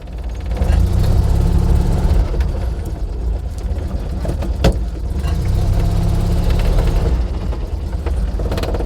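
A Citroën 2CV's small engine idles at a classic car meet, a loud, steady, close chugging putter with a sharp click partway through and no talk over it.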